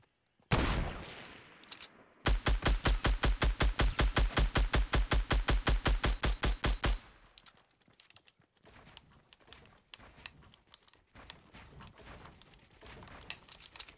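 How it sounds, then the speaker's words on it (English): Rapid bursts of AR rifle fire from a video game firefight: one sharp shot, then a long, evenly spaced automatic string of loud cracks lasting several seconds, followed by fainter scattered shots and game noise. "Heard AR shots too"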